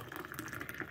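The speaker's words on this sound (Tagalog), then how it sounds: "lagyan natin tubig." Water poured from a tap or kettle into a glass of black coffee, a short bubbling trickle with a splashy gurgle, close and alone.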